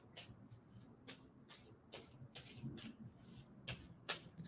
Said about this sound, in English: Tell me to stop shuffling.